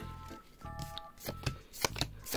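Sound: Pokémon trading cards being handled while opening packs

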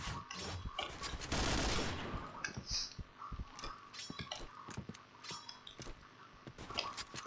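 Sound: gunfire from the Aug rifle in the video game Point Blank

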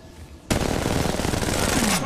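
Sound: gunfire in the video game Apex Legends Mobile

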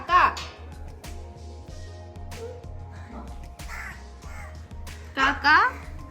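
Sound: crow cawing

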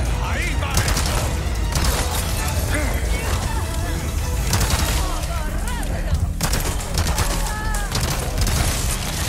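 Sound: submachine gun fire in Resident Evil 4 Remake video game

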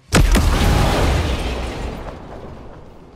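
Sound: grenade explosion in the video game Ghost Recon Breakpoint

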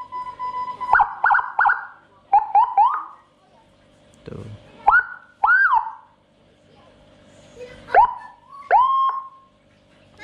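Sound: Whelen Euro 60-watt siren module for motorcycle at full volume

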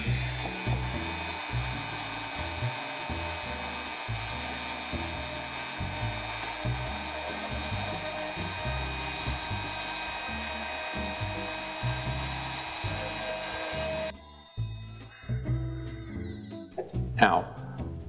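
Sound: Dremel rotary tool carving a wooden pufferfish's mouth

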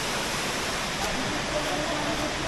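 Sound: waterfall

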